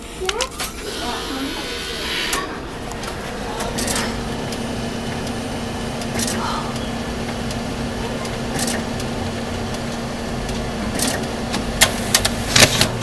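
A Fuji Xerox DocuColor 1250 photocopier rumbles steadily with low mechanical whirring while feeding paper, punctuated by sharp clicks and clunks as it runs.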